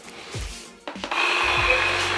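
Proscenic M7 Pro robot vacuum starting up on a table: a few clunks and clicks, then a motor whirring up into a steady, loud, close hum and whine.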